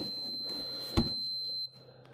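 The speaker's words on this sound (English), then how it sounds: "I got the, continuity check through the switch" A multimeter continuity beep held through a brake light switch on a Trail-Shark, a thin steady high tone lasting about a second and a half under a low background hum, with a brief bump midway and no talking.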